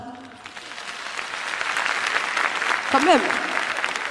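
A theatre audience at a French stand-up comedy show applauds, clapping swelling steadily and staying busy throughout, with a performer's voice speaking briefly over it.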